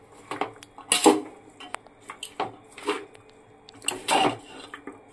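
A metal pot for vegetable dum biryani being set onto a gas stove, with several clanking metal knocks and scrapes spread across the moment, close and moderately loud, no talking.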